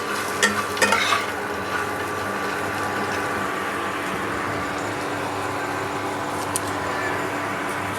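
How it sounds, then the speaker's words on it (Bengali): Unpeeled peanuts fry and get stirred in a pan, giving a steady close sizzle with scraping and rattling that is busiest in the first second and continues evenly throughout. "আমি আরও 5 মিনিট ভেজে নেব।"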